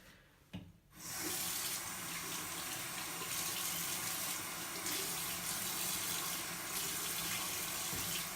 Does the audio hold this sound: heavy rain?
no